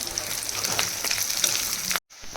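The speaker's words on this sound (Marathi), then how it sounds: "कांदा आणि हे सगळं साहित्य टाकलेलं आहे, थोडंसं आता तळून झालेलं आहे." Onion, ginger, garlic and coriander stems frying in hot oil for a cashew curry, a steady close sizzle and crackle that runs throughout before cutting out briefly near the end.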